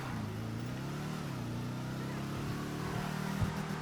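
A car driven in the video game GTA V, its engine droning steadily with low harmonic tones that rise slightly, continuous and close, with a brief bump near the end.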